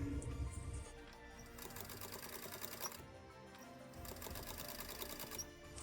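A sewing machine stitches fabric in bursts of rapid mechanical chatter, close and fairly quiet, pausing briefly between runs of stitching.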